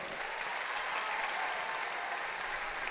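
A large audience in a theatre at the Grand Rex applauds in a dense, continuous wash of clapping, even and sustained throughout.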